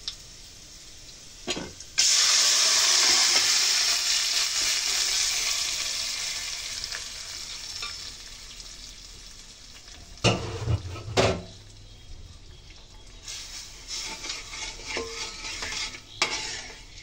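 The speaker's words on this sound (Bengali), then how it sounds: "রসুন পেঁয়াজ ভাজি ভাজি হয়ে এসেছে, এখন দিয়ে দেব নিহারিগুলো" Nihari pieces dropped into a pan of frying garlic and onion, a sudden loud sizzle that slowly fades, followed by a few sharp clinks and stirring scrapes of a utensil against the pan, no talk.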